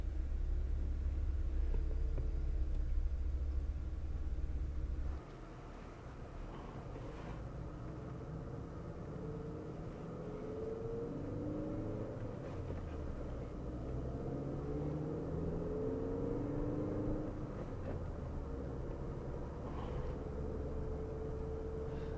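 A 2015 Ford Mondeo (Fusion) with a 1.5 EcoBoost engine turns over and settles into a steady, low idle rumble, close and continuous, with no talk over it.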